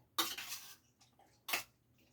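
A regular metal spoon clinks twice against a pot while stirring Southern succotash, two short bright scrapes close up with a quiet pause between.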